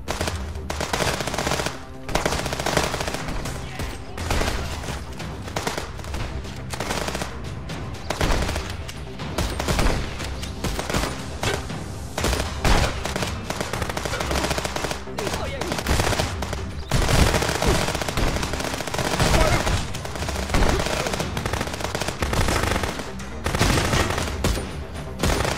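Gunfire in the video game Contraband Police, a long run of sharp, rapid shots in bursts and single cracks, loud and close, packed densely from start to finish.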